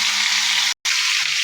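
Jackfruit frying in hot oil, a loud, dense sizzle that breaks off for a split second and then resumes at full strength.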